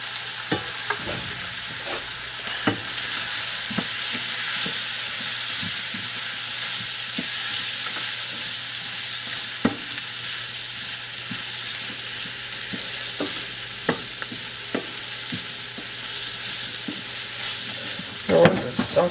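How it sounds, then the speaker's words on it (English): Sliced onion and button mushrooms sauté in a pan with a steady, close sizzle throughout, broken now and then by light scrapes and clicks of stirring. "I'm going to saute these until soft."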